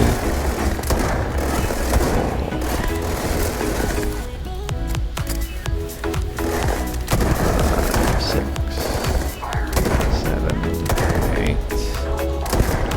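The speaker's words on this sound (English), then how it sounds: "9 shots and he's down" Repeated shots from the Deadeye pistol in Starfield ring out in a steady string against an armored, minigun-wielding enemy, with dense game noise and effects filling the gaps between loud cracks.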